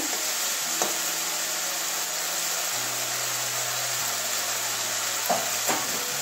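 A spice paste sizzles in hot oil while it is cooked down for a snail and drumstick-stem curry. A constant hissing fry runs throughout, with a low hum underneath and a few faint knocks from stirring.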